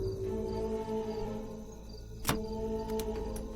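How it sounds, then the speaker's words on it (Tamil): A faint, steady background of insect chirping, with one sharp click partway through; no voices. "என்ன ஏதோ பூச்சி சத்தமா கேக்குது."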